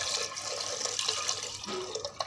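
A flour-and-water batter pours into a cooking pot with a steady close splashing and gurgling that lasts a couple of seconds and has no talk over it.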